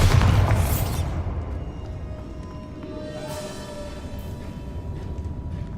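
Spell explosion from the Hogwarts Legacy video game: a loud, broad boom bursts at the start and then decays into a sustained rumbling, crackling roar that carries on to the end, with no talking.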